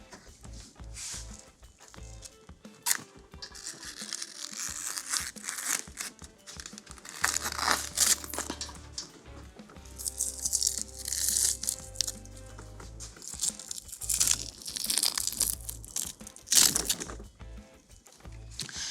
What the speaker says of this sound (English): We're going to cut the tape off and start trying to demold it a little bit at a time.